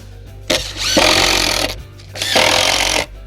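Power drill driving 3/4 inch wood screws into 3/4 inch plywood while building a home gym bench; two loud, close bursts of motor whine with grinding as each screw seats, separated by a short pause.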